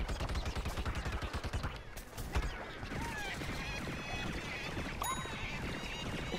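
Weapon fire in the video game Plants vs Zombies: Garden Warfare 2, a dense rapid burst of gunshots at first, then continuous game action with whooshes and electronic effects, loud and busy.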